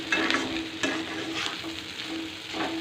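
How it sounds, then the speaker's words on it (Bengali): Onions and boiled potatoes frying in a pan, stirred with a utensil: steady close sizzle with scraping strokes of the spoon recurring every second or so, no voices. "এবার আমি এর মধ্যে দেবো পেঁয়াজ, অল্প পরিমাণে পেঁয়াজ দেবো। পেঁয়াজ দিয়ে নেড়ে চেড়ে নিয়ে"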